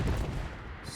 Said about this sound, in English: artillery is marking it